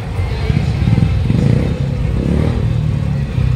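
Several motorcycles run and rev steadily in a women's bike rally procession during a Girgaon Shobhayatra street parade, a loud, continuous engine rumble with clatter and crowd babble mixed in throughout.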